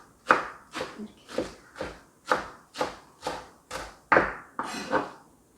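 A kitchen knife slices rolled perilla leaves into thin strips on a cutting board for spicy duck bulgogi: about a dozen crisp, close chops in a steady, even rhythm, with no talking.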